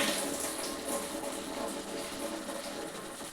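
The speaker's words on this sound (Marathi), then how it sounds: "तर पहिले तांदूळ टाकून घेऊया." Rice is poured into a pot of water on a home kitchen stove while making egg biryani, giving a continuous close watery rush and trickle that lasts throughout without talk.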